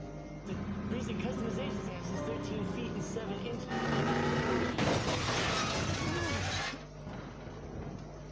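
A car roof smashes against a tunnel entrance in the film Finch, heard as a sustained loud crunch and scrape of metal and glass that builds for several seconds over a steady background score, then cuts off abruptly.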